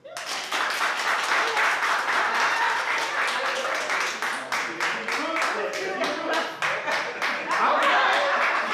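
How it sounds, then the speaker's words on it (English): Studio audience applauding in response to a poll about braids, steady dense clapping throughout with scattered laughter and some voices mixed in, loud and close. "Clap if you like the braids."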